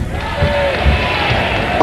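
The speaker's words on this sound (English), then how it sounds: "this is an unbelievable crowd here in Erie" Crowd at a bowling championship match in Erie cheers and roars loudly, a dense, sustained swell of voices throughout with no distinct speech.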